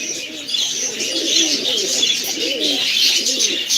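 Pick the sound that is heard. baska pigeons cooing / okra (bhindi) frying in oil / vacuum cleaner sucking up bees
baska pigeons cooing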